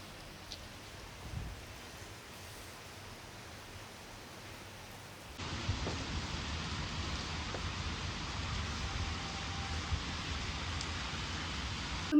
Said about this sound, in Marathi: पाऊस होत आहे मस्त बाहेर